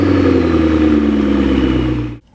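A McLaren 650S sports car's engine revs hard in a loud, sustained roar that holds steady for about two seconds, then cuts off abruptly.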